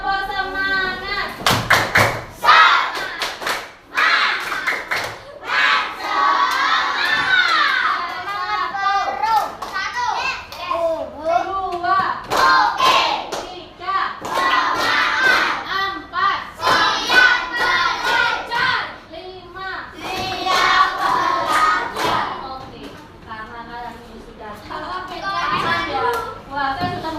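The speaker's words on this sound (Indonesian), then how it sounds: "Tepuk semangat." Schoolchildren in an Indonesian classroom perform a rhythmic spirit clapping chant, with loud, close bursts of clapping interleaved with shouted group chanting throughout.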